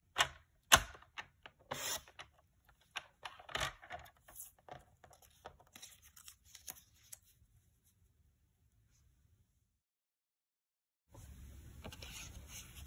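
Paper card stock being cut for a handmade card, a series of crisp snips and clicks during the first seconds, thinning out and going quiet before a burst of soft rustling near the end.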